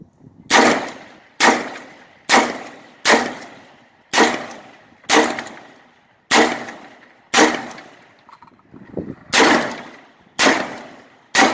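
A firearm fires repeatedly to empty a full magazine, with about ten loud, sharp shots spaced roughly a second apart, each ringing out with a decaying tail and no talk over them.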